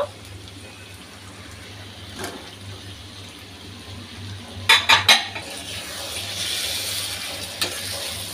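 A metal spoon clinks and scrapes against a pan in a brief burst of quick clatters as hilsa fish roe is stirred into masala, over a soft background of cooking.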